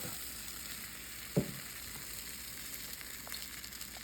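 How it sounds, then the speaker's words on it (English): Whole eggs and egg whites fry on toasted oatmeal in a pan, giving a steady, even sizzle throughout. A single dull knock sounds about a third of the way in. "So once you got the oatmeal toasted pretty good, you add 2 whole eggs."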